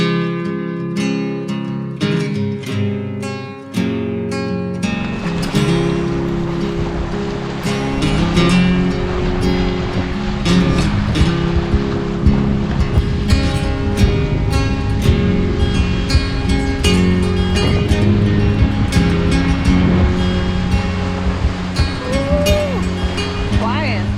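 A Bayfield sailboat moves at over six knots through waves, with steady rushing water and hull splashing close by, overlaid with creaks and voices talking aboard.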